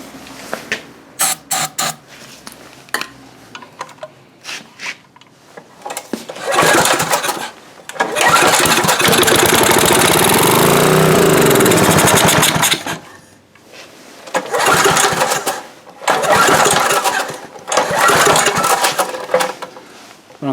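A Coleman Powermate 5HP portable generator engine repeatedly pull-started, with clicks and rattles between several loud bursts of running, one sustained for about five seconds before cutting out, then two more short runs.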